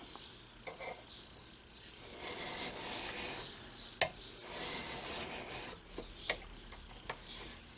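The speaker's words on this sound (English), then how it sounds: "By the way, your file only cuts this way. If you push back, you're dulling it." Metal hand file rasping across a steel fillet knife blade, close-up gritty strokes repeated in a steady rhythm with a few sharp ticks between passes.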